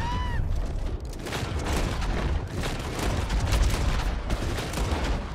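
Rapid bursts of gunfire in Red Dead Online during bounty hunting, sharp close shots and crackling reports piling up continuously, loud and dense, with little talk.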